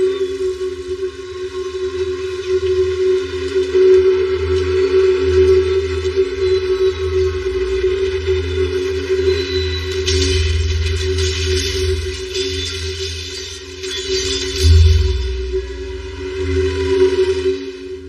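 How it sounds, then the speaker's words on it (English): Movie sound effect of a ten-million-pound train derailing and flipping onto its side, a sustained loud rumbling roar with grinding metallic tones and a heavy impact thud near the end, no voices. "That was 10 million pounds of train, Mr. Galvin."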